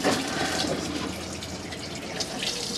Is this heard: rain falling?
no